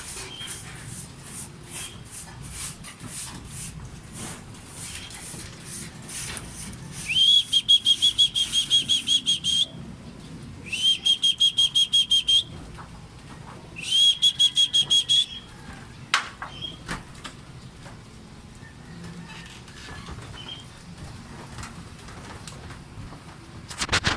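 Trained racing pigeons return to the loft during a training flight in Gapan. Three separate bursts of wing flapping come up close, each with a steady high whistle-like tone, and faint background sounds fill the gaps.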